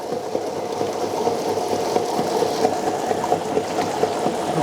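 A smart wet grinder churns soaked rice and urad dal into batter with its lid open, giving a steady wet, sloshing grind over a constant motor hum, close and unbroken throughout.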